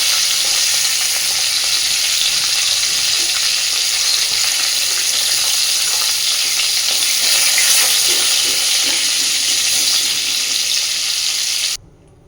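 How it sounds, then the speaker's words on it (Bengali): Sliced pointed gourd (potol) sizzles steadily in hot oil in a pan, a loud, dense crackling frying noise with no talk, continuing evenly before cutting off abruptly near the end. "পটলগুলোকে আমি খুব সুন্দর করে ভেজে নিয়েছি। এবার পটলগুলো তুলে নেব।"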